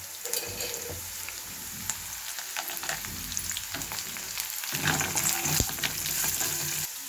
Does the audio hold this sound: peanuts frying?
yes